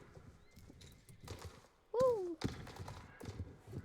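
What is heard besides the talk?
horse hooves clip-clop in a video game, SSO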